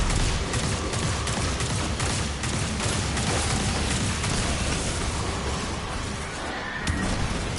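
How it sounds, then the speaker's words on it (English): Gunfire from a hand cannon in the video game Destiny, weapons from the Deep Stone Crypt raid, as a dense, continuous barrage of loud shots and impacts with no clear gaps. "I may have found me a hand cannon."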